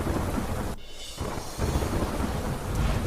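Heavy rain pours down in Delhi near Ashok Road circle amid waterlogged streets, a loud, dense, steady roar with a brief dip in intensity partway through.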